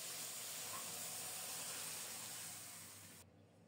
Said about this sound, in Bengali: পাত্রটা ধুয়ে আরো একটু জল দিলাম